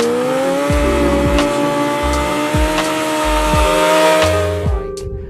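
A motorcycle doing a burnout, its engine revving hard and loud through repeated gear-like surges and rising pitch, then cutting off near the end.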